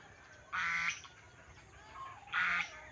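Two honking goose calls, a few seconds apart, fairly close over a quiet background.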